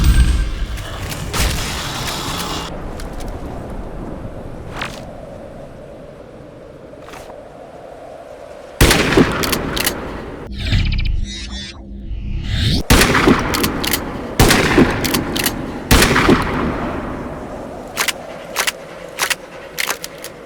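Shotgun fire in a first-person shooter game, several sharp loud blasts at irregular spacing with clicky pump and reload mechanics between shots, separated by quieter gaps.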